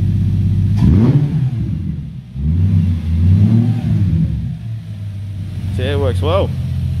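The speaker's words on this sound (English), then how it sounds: "we'll give it a bit of rev" A Subaru EZ36 engine running on a standalone harness is blipped in short revs that rise and fall several times, close and loud over a steady idle, with a person talking in between.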